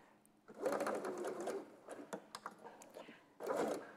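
Sewing machine topstitching fabric half a centimetre from the edge with a long stitch, two close, steady bursts of stitching separated by a pause filled with softer clicks and handling.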